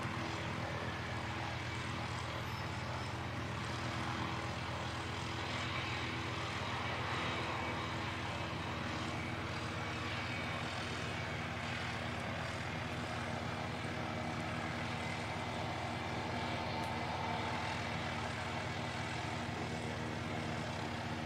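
Quiet, steady engine drone from a Jetstar aircraft arriving at Christchurch Airport, a low hum with faint tonal bands that stays even and fairly soft throughout, no talking.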